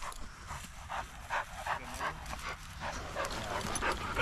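A bird dog on a preserve quail hunt breathes in quick, rhythmic pants and small whimpers close to the microphone, with faint outdoor background.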